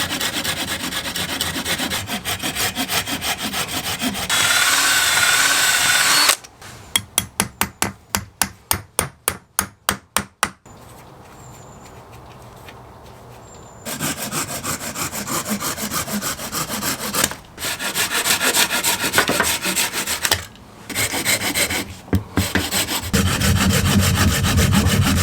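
A sturdy wooden frame being built from store-bought timber, with close saw strokes and a burst of rapid regular hammer blows, then more sawing and rubbing of wood, with no talking.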